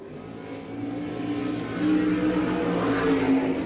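A USAC sprint car with a Hogue Racing engine and a competition welding chassis drones at Rossburg, Ohio during a qualifying lap, its engine note building steadily and growing louder without any speech.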